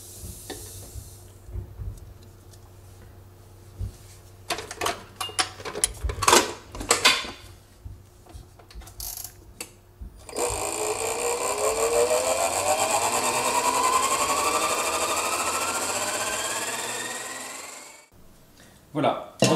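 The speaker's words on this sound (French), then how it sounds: "première étape toute simple, on va battre les œufs avec le sucre" Electric mixer beating eggs with sugar for a cake, a steady whirring motor hum with rising pitch that runs for several seconds after a stretch of kitchen clatter and talk, close and fairly loud.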